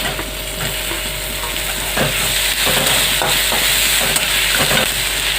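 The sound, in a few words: tomatoes frying in a pan with spices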